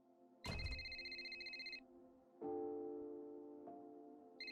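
Phone ringing in the video game Artemis, a sustained electronic ring that starts abruptly and repeats in long tones, with a quieter, lower ring between them.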